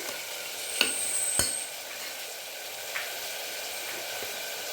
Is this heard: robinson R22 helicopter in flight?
no